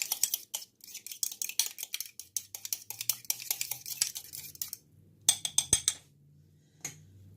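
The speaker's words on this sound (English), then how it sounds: "And just beat those up right quick." A utensil beats banana oat muffin batter in a bowl, giving quick rhythmic clinks and scrapes in a fast run that pauses, then resumes in a few sharper strokes, close by with no talk.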